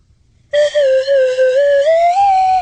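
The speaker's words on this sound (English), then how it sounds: "a much better slide whistle" A slide whistle plays a sustained, bright tone that glides gently up and down in pitch for about two seconds, loud and alone.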